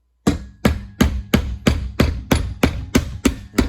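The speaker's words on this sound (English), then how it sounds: "Being creative often involves a hammer" Hammer pounding on a steering column part of a John Deere 140 garden tractor during disassembly, nine sharp, evenly spaced metallic blows close up with short ringing decay.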